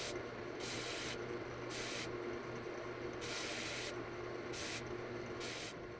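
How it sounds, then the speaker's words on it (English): A sander works on a segmented wooden Christmas ornament piece, giving a faint, steady hiss and rub that swells and drops in repeated passes, with no talk. "I'm going to go ahead and sand this on the sander"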